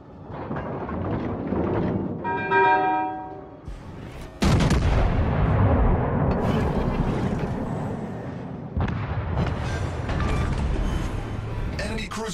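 Naval guns firing in World of Warships Legends, heavy booming blasts with rumbling decay and thundering low end, while a voice speaks over the combat.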